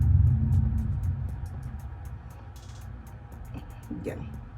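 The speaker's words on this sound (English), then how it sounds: "I hope you guys heard that, because that is thunder" Low rolling thunder rumbles through a rainy spell, a deep sustained roar that fades out slowly, with faint ticking noises over it.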